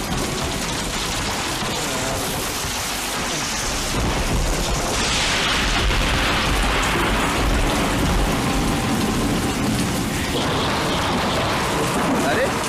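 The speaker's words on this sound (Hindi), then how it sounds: "इतनी बारिश हो रही है" Heavy rain pours steadily in a dense, constant wash throughout a film scene, with a low rumble of thunder swelling midway and voices speaking over the downpour.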